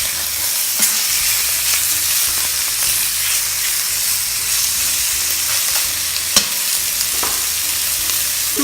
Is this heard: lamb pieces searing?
yes